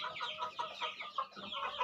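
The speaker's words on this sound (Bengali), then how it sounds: "এই দেখেন ফার্মি কি সুন্দর সাদা ফকফকা মুরগি, মুরগ সবই আছে এখানে।" Flock of white chickens and roosters on a rooftop farm, clucking continuously in overlapping calls at close range, with no talk.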